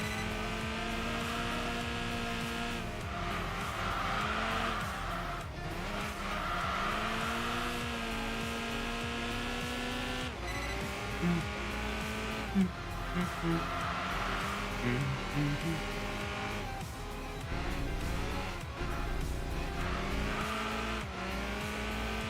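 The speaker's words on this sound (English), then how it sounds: "Just gotta listen to that 2-liter K-Series engine absolutely sing." A Honda Accord sedan's 2-liter K-Series four-cylinder in the racing game Enthusia Professional Racing revs high and steadily, climbing in pitch through several gear changes with brief dips between pulls, while someone talks over the engine.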